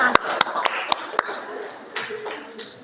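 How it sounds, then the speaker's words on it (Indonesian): Scattered claps from a classroom group, a handful of sharp close hand strikes spaced irregularly and fading out, with low murmuring room noise behind them. "Oke, beri tepuk tangan untuk kelompok"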